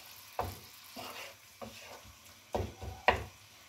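A spoon scrapes and stirs a spiced chicken patty mixture with chaat masala and ground coriander in a pan, giving several distinct close scraping strokes over a faint background sizzle, with no talking.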